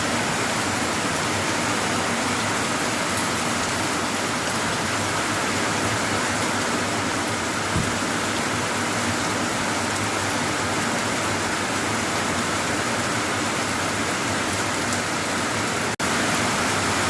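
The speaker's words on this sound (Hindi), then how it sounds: "हम ऋषिकेश पहुँच गए हैं और बारिश भी होने लगी है।" Steady rain pours down in Rishikesh, Uttarakhand, a dense, even hiss of falling water that continues unbroken and fairly loud throughout.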